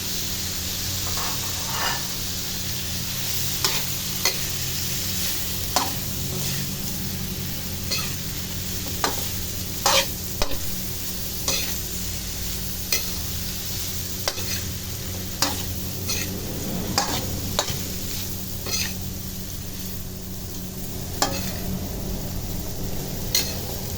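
Miki noodles stir-fried in a hot pan, with a steady sizzle and hiss running throughout and scattered sharp clicks and scrapes of a utensil against the pan.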